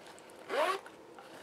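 A single quick zipper pull on a pocket of a dog's vest, a brief rasping zip rising out of a quiet room.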